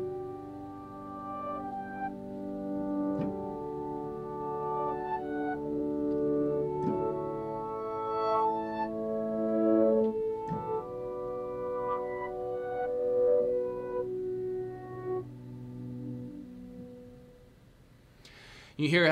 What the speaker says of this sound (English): So that one's called Aqua Motion, and that's very characteristic of this song,